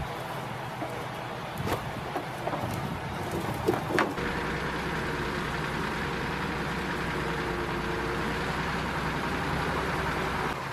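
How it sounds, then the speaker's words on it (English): A T150K crawler tractor hauling firewood on a wet, muddy forest road rumbles with a deep, steady engine drone that kicks in heavier after a few knocks and clunks, then holds for the rest, with no talk. "in Germany, they use a crawler tractor called T150K."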